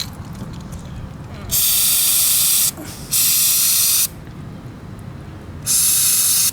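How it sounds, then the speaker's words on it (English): Flex Seal aerosol sealant is sprayed onto a leaking Chevy G20 van radiator with pinhole leaks, in three sharp, loud hissing bursts separated by short pauses, close to the mic. "We'll spray it again, see what happens."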